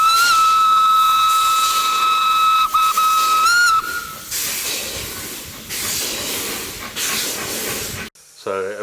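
A WW1 German Feldbahn narrow-gauge steam locomotive, built for wartime field railway service, sounds a loud, sustained whistle blast that breaks off, followed by a continuous roaring hiss of escaping steam.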